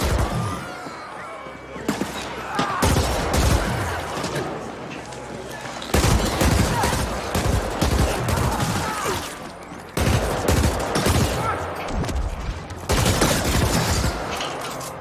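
An energy assault burst rifle fires in the video game The Ascent, a loud, close clatter of rapid shots in repeated bursts. Brief pauses separate the volleys, with crashing impacts mixed in.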